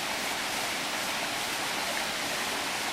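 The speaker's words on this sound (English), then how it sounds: "This is waterfall number 1." Waterfall in a Borneo national park, a dense, steady roar of rushing water over rocks, loud and close, unbroken throughout.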